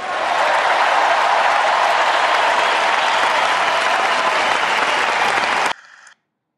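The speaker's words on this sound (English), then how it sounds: "You see the cheering delegates." Delegates at a 2012 political convention applaud and cheer, a loud, dense wall of clapping and crowd noise that carries on steadily and then cuts off abruptly.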